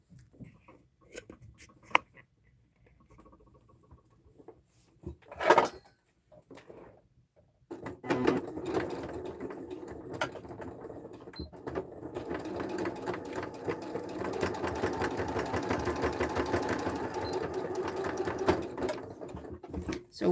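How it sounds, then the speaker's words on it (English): A sewing machine stitching fabric gift wrap. It opens with a few clicks and a handling thud, then the motor runs in a steady, close, rattling whir that continues for about twelve seconds. "Now over to the sewing machine."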